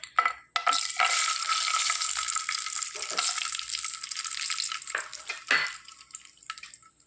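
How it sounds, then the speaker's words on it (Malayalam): Cashew nuts fry in hot ghee and oil for semiya upma, a loud continuous hiss and crackle with stirring clatter and brief dips, close and alone without voices. "നമുക്ക് ആദ്യം ഈ എടുത്തു വരിക്കുന്ന കാഷ്യൂനട്ട് ഇതിലേക്ക് ചേർത്ത് കൊടുക്കാം"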